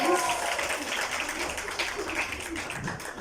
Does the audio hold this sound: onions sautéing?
no